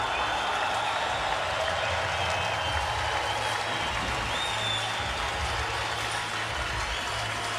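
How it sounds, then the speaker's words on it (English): An arena crowd at the 2016 Olympic basketball gold medal game between the USA and Serbia roars and applauds in a dense, sustained wash of cheering that carries on without pause. "So the crowd reacting to Spain"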